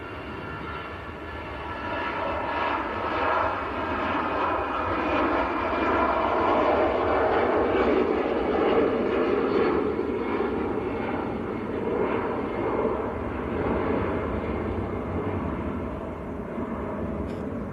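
Aircraft engine roar at Manchester Airport, a steady, loud, broadband rumble and whine that swells gently and holds throughout, heard alone without talk.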